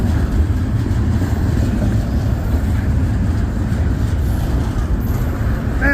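Kansas City Southern freight train with a mid-train DPU accelerating past, a steady loud low rumble of engines and rolling wagons holding throughout with no voices.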